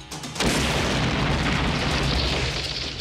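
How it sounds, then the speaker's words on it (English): A bomb explosion from the trailer for the 1991 action film The Last Boy Scout hits after a short lead-in as a loud, sustained, roaring blast that fills the rest of the moment with no voices. "That was a bomb?"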